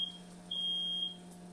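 Smoke alarm going off in a home kitchen while food cooks in a non-stick pan, giving two sustained high-pitched electronic beeps, a short one and then a longer one, fairly loud against a steady low hum.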